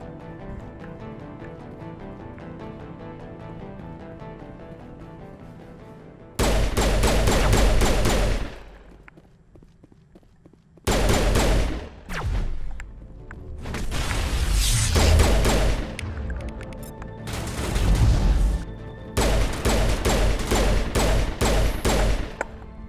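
Pistol gunfire in the video game Mass Effect 1 comes in loud, sharp bursts of rapid shots with short lulls between volleys and distant booms, all game sound with no voices over it.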